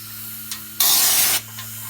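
A spray nozzle coating the inside of a Toyota Land Cruiser 100 series body gives one loud half-second burst of hissing spray, framed by brief softer puffs over a steady low hum.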